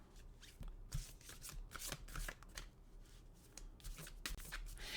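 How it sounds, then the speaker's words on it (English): A deck of oracle cards is shuffled in quick, crisp riffling bursts and flicks, close and fairly quiet, repeating several times without any talking. "We'll get an oracle card."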